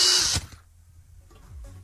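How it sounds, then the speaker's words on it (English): A power drill whirs loudly for a brief burst, then cuts off, leaving quiet low rumble. "That was a drill."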